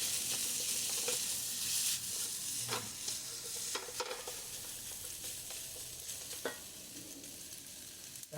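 Cooked rice being stirred and fried in a pan for omelette rice, with a steady close sizzle and a handful of scraping spatula strokes at irregular intervals.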